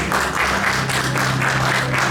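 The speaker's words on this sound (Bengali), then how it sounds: "আমাদের ছোট্ট কবিগুরুর জন্য আরেকবার হাততালি অনুরোধ করব" Audience applause at a Saraswati Puja stage performance, dense continuous clapping from a crowd filling the space, loud and steady throughout.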